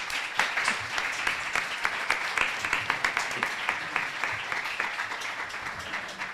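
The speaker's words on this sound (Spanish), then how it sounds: "Un aplauso para los 4, por favor." An audience applauds at a live panel event on AI and creativity, with dense, steady clapping that holds at an even level for several seconds and has sharper individual claps standing out up close.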